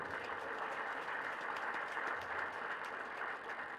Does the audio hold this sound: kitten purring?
no